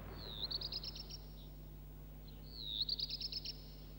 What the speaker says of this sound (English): It's the song of a remarkable little bird, the black redstart.